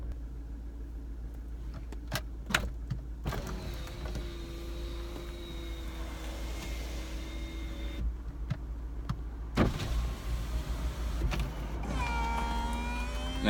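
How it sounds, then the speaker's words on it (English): Electric roof of a MINI Convertible folding down, a steady motor whir running for several seconds between clicks and clunks, with a rising mechanical whine near the end. "There you go, you can see the roof will fold away."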